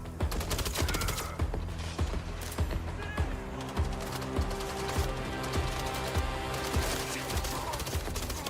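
Continuous gunfire in the Mindseye video game, dense rapid shots and bursts layered over game music and ambience, loud and steady throughout.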